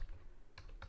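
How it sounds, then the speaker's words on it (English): A computer keyboard gets two quick, faint key taps close by in a quiet room, with no talking. "I'm going to just click on the insert function tool, and I'm going to type"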